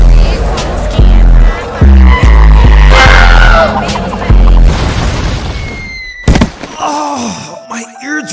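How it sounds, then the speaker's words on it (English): Sonic boom attack hitting Tanjiro in a Demon Slayer video game, a loud run of heavy thudding booms and blasts, followed by a sharp crack and scattered game sound effects. "This is like the 5th sonic boom attack Tanjiro's gotten hit with tonight alone."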